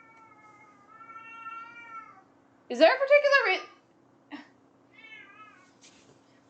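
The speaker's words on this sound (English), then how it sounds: "Oh, that's my cat." A pet cat meows several times, a long drawn-out cry followed by shorter calls, close and fairly loud, with a person speaking briefly in between.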